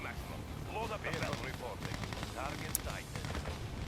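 Gunfire in the online game Yuri Online during a one-on-one match: dense, rapid shots crackle steadily through the whole stretch, mixed with in-game effects, while a person talks over the action.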